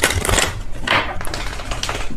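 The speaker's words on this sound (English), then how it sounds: "If I could shuffle my deck without it going everywhere," Tarot cards being shuffled by hand, with a continuous papery riffling and flapping that swells in bursts close to the listener, without any talking.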